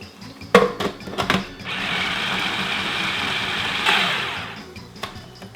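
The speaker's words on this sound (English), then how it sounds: "Let's process the tofu until it's crumbled." A food processor whirs steadily for about two seconds as it crumbles tofu for a vegan spaghetti sauce, preceded by a few sharp clicks and knocks from handling the machine.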